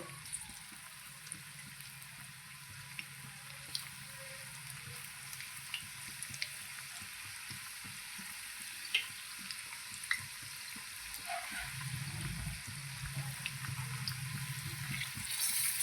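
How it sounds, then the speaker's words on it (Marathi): Pav vada deep-frying in a pan of oil, a steady close hiss and crackle that swells slightly near the end, with a few small ticks and a low rumble, no talking. "दोन्ही पण साईडने आपल्याला हा पावडा पलटी पलटी करून छान प्रकारे मस्त तळून घ्यायचं आहे"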